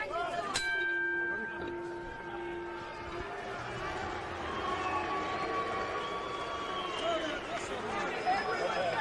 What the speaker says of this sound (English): The bell upcoming.